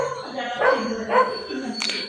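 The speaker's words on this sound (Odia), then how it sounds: "କୁକୁର।" A dog barks a few times in quick succession, fairly close, with a short sharp yelp near the end, over a steady background hum.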